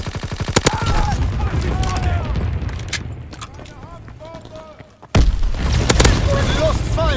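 Anti-aircraft flak guns firing in rapid, loud repeated bursts. The barrage eases briefly and then slams back in with a heavy blast, with voices and whistling tones mixed through the din.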